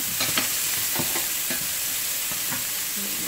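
Shrimp and chicken sizzle and fry in a hot pan, a loud continuous hiss broken by soft scraping stirs, close by, with no talking.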